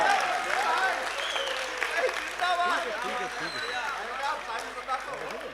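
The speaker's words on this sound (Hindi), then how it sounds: "तालियां बजाओ तो देखो ढंग से बजाओ।" An audience at a mushaira poetry recital applauds throughout, steady clapping from a crowd heard under someone speaking and laughter.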